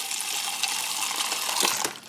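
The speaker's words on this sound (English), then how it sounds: "We're gonna drink water straight from the fridge" A refrigerator's built-in water dispenser pours a steady stream into a glass in a home kitchen, a continuous close hiss and splash that ends with a couple of trickles.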